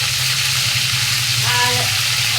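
Steady crackling sizzle of hot oil throughout, with a brief burst of small popping five-spice seeds near the end; no talking.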